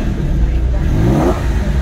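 A car engine idles steadily and then revs up briefly in the middle, a smooth, close mechanical hum with no talking over it.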